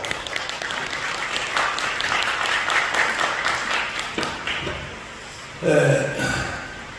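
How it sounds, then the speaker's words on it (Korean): Applause from attendees welcoming a speaker at a press conference held at a church, dense clapping for about five seconds that thins out, followed by a brief louder knock or tone. "큰 박수로 맞아주십시오."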